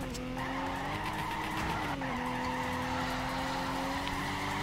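A car drifting in the Torque Drift video game, its engine droning steadily under long, continuous tire squeal and skidding, loud and close throughout.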